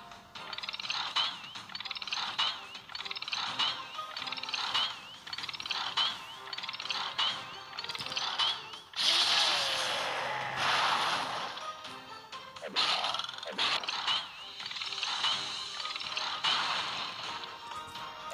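An electric hammer power tool in the video game Clash of Clans gives off dense mechanical ratcheting and gear-like clatter. It runs steadily for many seconds, with a louder crash-like burst partway through and game effects layered underneath.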